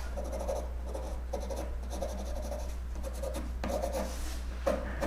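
Coloured pencil shades lightly on paper in a drawing lesson of a potted plant, giving soft, close scratchy strokes in short repeated bursts over a constant low hum, with no voices.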